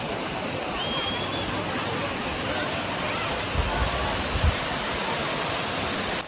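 Water pours steadily over the stone Kodiveri check dam near Gobichettipalayam, a built weir from 1125, giving a broad, constant roar that fills the whole clip, with a few soft low thumps and faint speech mixed in.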